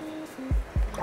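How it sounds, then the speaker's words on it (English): Water gurgles and drips as it drains through a homemade PVC aquarium overflow siphon, two close, distinct gulping pulses following a quiet stretch. "we should start to see water draining out once again"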